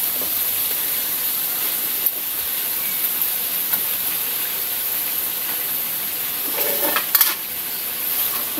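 Sponge gourd and green chili sizzle in a hot pan while being stir-fried, a steady hissing fry throughout with occasional soft scrapes of a utensil stirring the vegetables.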